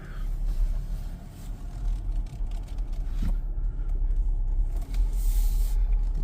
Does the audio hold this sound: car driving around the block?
yes